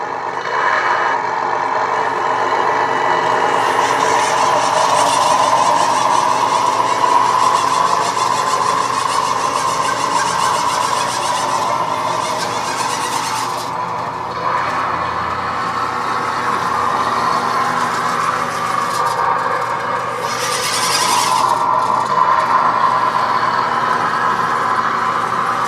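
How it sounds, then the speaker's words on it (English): A DAS Micro sound module in an RC truck produces a loud, continuous simulated truck engine, holding a steady drone with slight swells in pitch and a couple of brief surges as it is made to rev. "Yes, I can make it rev, kind of."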